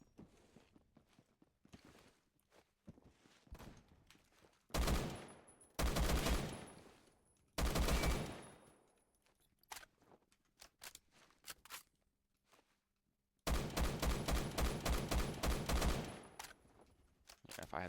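Bursts of DMR rifle fire in Phantom Forces, several loud clusters of rapid shots separated by quieter stretches of movement and footsteps, with a long sustained volley near the end.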